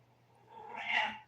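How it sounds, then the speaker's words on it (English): A single drawn-out cat meow, rising and then falling in pitch, fairly close, over a faint steady background hum. "I'm going to go and see what my cat is complaining about"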